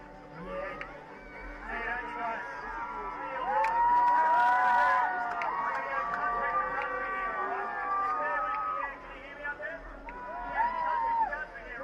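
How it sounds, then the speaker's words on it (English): A live crowd at the UCI BMX Racing World Challenge in Japan cheers and shouts in a sustained swell of many overlapping voices, growing louder partway through. "Make some noise, Japan."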